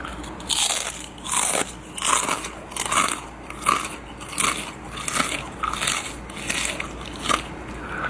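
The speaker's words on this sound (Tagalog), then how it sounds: "Ito yung crunch test, kung crunchy ba talaga yung chips." Crisp potato-style chips are bitten and chewed close to the ear in a steady series of about eight loud crunches, each a sharp crackly burst spaced roughly a second apart, with no speech over it.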